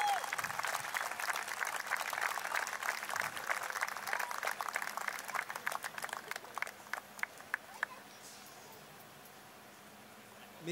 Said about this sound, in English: Everyone, please give one more applause.